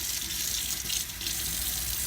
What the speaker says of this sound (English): We have nice hot flowing water right now